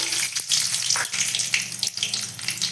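Black cumin seeds and four dried chillies hit hot oil for a dal tempering, giving a loud, continuous crackling sizzle throughout, alone with no talk.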